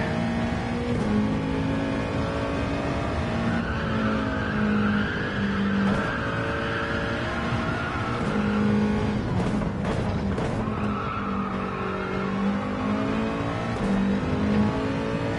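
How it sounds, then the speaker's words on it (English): In a racing video game at Fuji, a race car engine revs steadily at high pitch, holding a sustained whine with shifting tones, loud and close throughout with no voices. "So just revving it out a little bit here"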